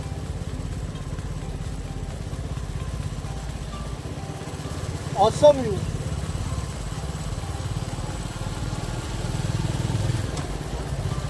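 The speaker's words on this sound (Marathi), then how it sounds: "आपली बाईक मस्त रोडच्या बाजूने चाललेली आहे" A motorcycle hums along a coastal road by Anjarle beach in the Konkan, a steady close engine drone throughout, with a voice speaking briefly midway and wind noise.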